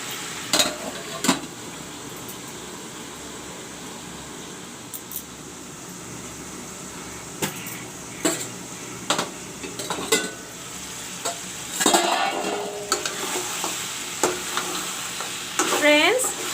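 Mutton pieces fry with onions in a pan, giving a steady close sizzle with bursts of stirring and scraping against the metal every few seconds, plus occasional clinks of a utensil.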